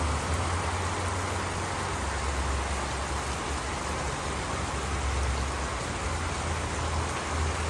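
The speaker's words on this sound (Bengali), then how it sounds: "অনাবিল বৃষ্টি হচ্ছে।" Heavy rain pours steadily onto a street, a dense unbroken hiss with a low rumble beneath it, constant and loud throughout with no thunder or voices.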